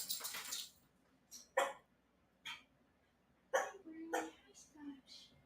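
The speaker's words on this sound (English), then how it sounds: "For anyone who doesn't know, that's my dog, Bernie." A pet dog just back from a walk gives several short, gruff bark-like huffs and snorts at irregular intervals, fairly close in a quiet room.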